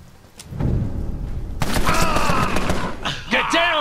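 Submachine gunfire in the video game Empire of Sin, a dense clattering burst of rapid shots, loud and close, with a voice groaning over it near the end.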